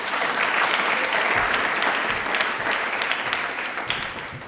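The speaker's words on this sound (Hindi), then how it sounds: "एक बार जोरदार ताली हो जाए प्लीज।" Studio audience at a televised Indian Railways quiz show breaks into loud, sustained applause, dense clapping filling the room and tapering slightly toward the end, with no talk over it.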